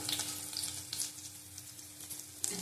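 Chopped garlic and fenugreek seeds fry in hot oil with a bright, close sizzle and a light scrape of stirring, steady throughout the short stretch, with no talking.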